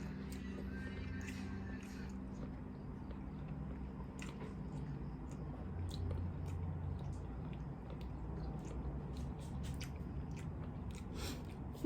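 Crunchy fried chicken lollipops are chewed close up at a mukbang meal in the Philippines, making steady soft crunching and squishing bites over a low room hum.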